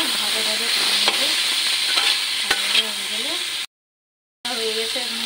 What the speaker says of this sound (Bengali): করে একটু ভাজা ভাজা করে নেবো